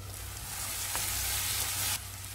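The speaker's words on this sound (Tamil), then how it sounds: "இந்த மாதிரி இடித்து சேர்க்கணும். ஒரு 1/2 நிமிஷம் வதக்கி விட்டால் போதும்." Crushed ginger and garlic sautéing in a pan for Chettinad pepper chicken make a bright, hissing sizzle that swells in the middle and drops abruptly near the end, with a single scrape of stirring.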